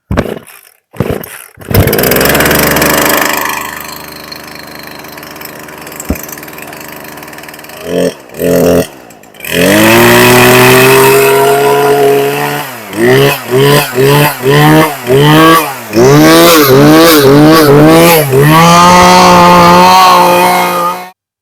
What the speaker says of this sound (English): That is a successful carburetor replacement on a 50cc Poulan Pro chainsaw.